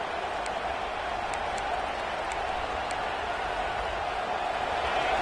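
A stadium crowd in a college football video game, USC against Florida, gives a steady, full-throated roar that fills the whole stretch at an even level, with a few faint whistles poking through.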